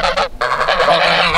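Geese honk loudly and close by, several rapid overlapping calls in quick bursts with a brief gap, no talking.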